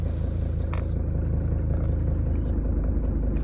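A cold Mercedes W123 300TD diesel engine idles with a steady, loud, low rumble and an even mechanical clatter, running at raised idle without a break.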